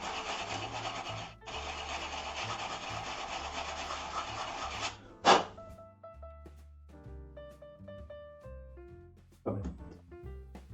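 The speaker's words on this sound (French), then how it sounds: "C'est un coup de ponçage." A Nerf Star Wars blaster is sanded by hand in long, continuous raspy strokes, followed by a sharp knock and then lighter, scattered handling and tapping sounds near the microphone.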